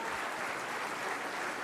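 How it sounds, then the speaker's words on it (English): Quiet, distant applause from an audience at a university launch event greeting the dignitaries present, a brief even patter of many hands. "please give the loudest possible round of applause to all the dignitaries present here today"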